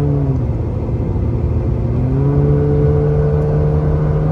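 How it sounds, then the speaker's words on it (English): A loud vehicle climbs Highway 18 up the mountain toward Big Bear, California, its engine droning steadily and close, with the pitch rising slightly partway through as it pulls up the grade. "I know my vehicle is loud"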